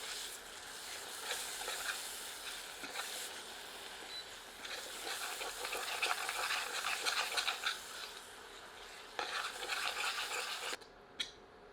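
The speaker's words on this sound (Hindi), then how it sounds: "सबको मिलाकर 2 मिनट मध्यम आंच पर भूनते हैं।" Goat curry masala being stirred and fried over medium heat in a pan, a steady scraping hiss with rough stirring strokes throughout, heard alone and close, ending with a sudden drop near the finish.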